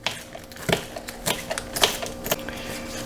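A knife chops a handful of spinach on a cutting board, making a run of sharp, close taps at an uneven, moderate pace with no talking.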